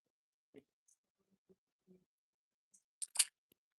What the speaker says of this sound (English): I don't mind lifting up the scissors every time I'm cutting it